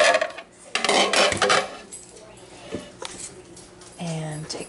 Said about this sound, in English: I'm going to take the lid off